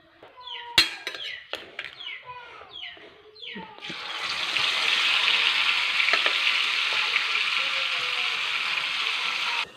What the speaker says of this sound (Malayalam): ചട്ടിയിട്ട് ഫ്രൈ ചെയ്യാണ്ട് കുറച്ച് മൂടി വെക്കുക കേട്ടോ